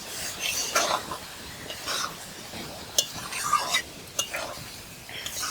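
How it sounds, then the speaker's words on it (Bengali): Pointed gourd (potol) curry being stirred and sautéed in a pan, with soft scraping and light clinks of a spoon against the pan at an irregular pace, quiet and close. "আমি এবারে এটাকে একটু কষিয়ে নেব"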